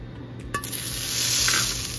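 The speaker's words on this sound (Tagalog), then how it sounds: "Nagpainit na ako dito ng kawali. Lagay natin yung ating butter." Butter sizzling as it lands in a preheated frying pan, a brief clatter followed by a steady, loud hiss of frying that builds and holds close up.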